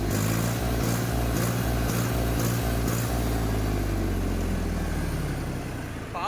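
A Mahindra B 275 DI tractor engine idles steadily and loudly up close, a continuous low diesel rumble with a faint rhythmic knock throughout, fading slightly at the end.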